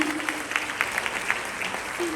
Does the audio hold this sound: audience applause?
yes